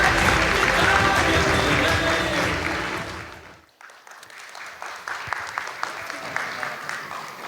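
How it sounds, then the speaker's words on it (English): Guests at a 60th birthday celebration clap loudly in a full, sustained burst that fades out, followed by scattered lighter claps and room noise. "Please join me in giving them a big, warm round of applause."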